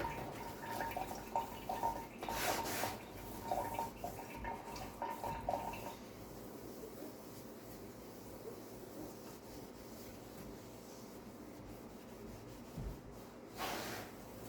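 Scrubbing inside a very dirty Panasonic Genius Prestige microwave with cleaner, a steady rubbing and wiping texture with occasional wet drips and light knocks, close up and fairly quiet, no talking.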